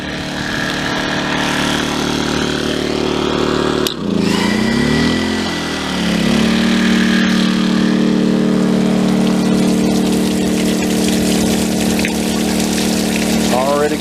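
A hydroponic filter pump for pond and rainwater runs with a steady, loud mechanical hum and watery churn, dipping briefly around the four-second mark before settling into an even drone.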